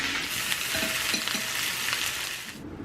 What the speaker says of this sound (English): that crackling sound you hear is searing